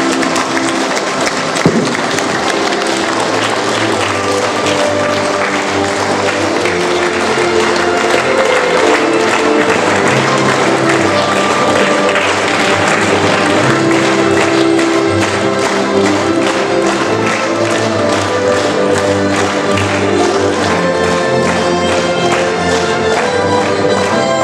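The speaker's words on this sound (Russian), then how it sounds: "Давайте стоя и аплодируем." A crowd gives a standing ovation at a Border Guard Day event in Vurnary, Russia, clapping continuously and loudly, sustained applause filling the space with a steady patter of many hands, with music under it.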